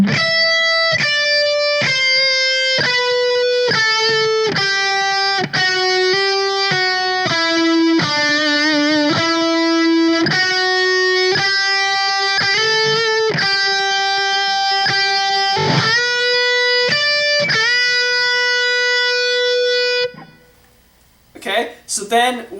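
Electric guitar soloing through a song, a continuous run of sustained, picked and bent notes played loud and close, ending with a few short scratchy sounds.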